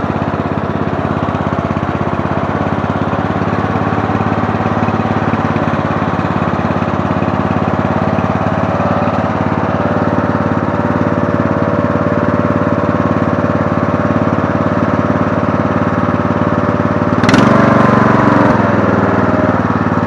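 A Murray Select 17.5 hp riding lawn mower engine idles steadily and loudly up close for the whole stretch, with a brief sharper clatter or rev near the end.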